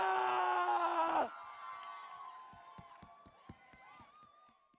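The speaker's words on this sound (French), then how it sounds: "Le public est en feu et acclame comme il se doit Julie et Naïla." An audience at a student show bursts into loud cheering and screaming for about a second, then drops to a quieter crowd murmur with scattered sharp claps.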